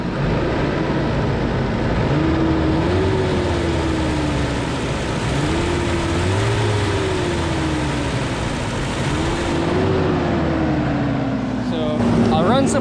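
A 1988 Toyota 4Runner's 22RE engine, freshly tuned with a cleaned throttle body, rises and falls through three steady revs over a constant idle drone, loud and close.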